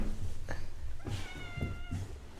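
A cat meows several times in short, rising calls, fairly close, over a steady background hum.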